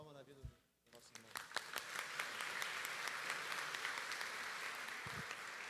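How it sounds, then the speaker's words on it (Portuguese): A church congregation breaks into sustained applause after a brief pause, many hands clapping densely and steadily at a moderate distance, with a voice speaking briefly at the start. "Salva de palmas na vida do nosso irmão."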